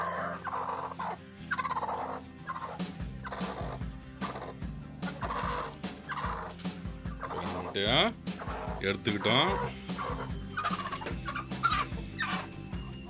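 A brooding hen clucks and squawks in agitated bursts while being handled and lifted off her two eggs, close and loud at times, with people talking throughout.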